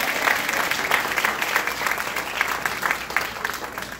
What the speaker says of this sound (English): How about another round of applause for all 3 of our candidates?